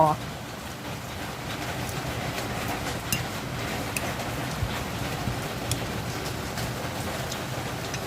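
Steady rain falls in a dense, even hiss that runs through the whole stretch, with scattered drops and a low rumble underneath, heard outdoors while someone talks in Thai.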